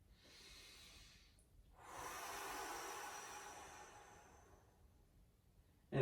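A slow, audible exhale through the mouth during an upper-body stretch, preceded by a softer breath, close and breathy with no speech.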